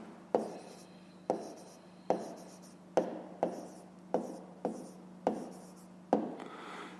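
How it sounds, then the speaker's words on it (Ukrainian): A pen strokes across paper in a steady series of short scratching marks as a math answer is written down, close up and regular, with no voice over it. "Записуємо відповідь."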